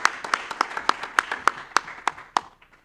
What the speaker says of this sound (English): That right there deserves a hand clap.